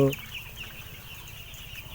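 Broiler chicks in a poultry shed give faint scattered peeps and clucks over a steady low background hum, a brief soft flock sound.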